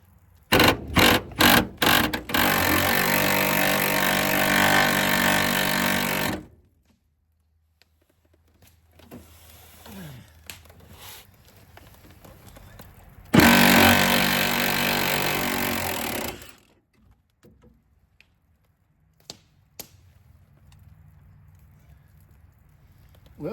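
A power tool rattles loose a truck bed bolt on a Datsun/Nissan 720 pickup. Two loud, sustained bursts of several seconds each are separated by quiet gaps with faint shuffling and clinks.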